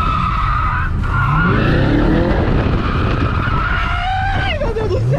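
A Chevrolet Camaro drifts on a track, its tires squealing loudly and continuously with wavering pitch over a roaring engine, close up and without pause.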